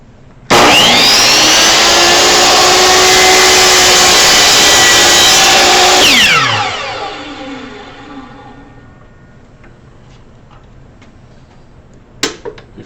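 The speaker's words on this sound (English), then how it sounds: "go down slow, get to the bottom, turn off the saw, wait till it stops spinning" A power saw cuts down through a junction box tray with a loud, steady high whine for several seconds. It is switched off and spins down with a falling pitch, followed by a quiet pause and a sharp clack near the end.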